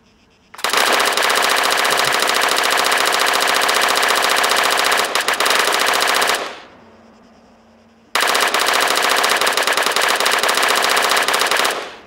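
An L110A machine gun fires in the video game Arma 3, two long sustained bursts of rapid, loud automatic fire separated by a short pause, with no other sound.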